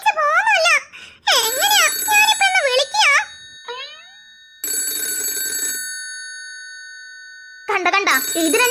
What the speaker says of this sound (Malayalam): കണ്ട വച്ച താമസം തന്നെ കോള് വന്ന്